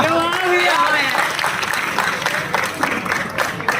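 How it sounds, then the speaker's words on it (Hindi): An open mic audience in Bhilai claps steadily, with a voice singing briefly at the start and spoken talk layered over the applause. "अरे ताली बजा था"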